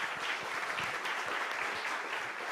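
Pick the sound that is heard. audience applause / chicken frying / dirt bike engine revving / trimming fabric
audience applause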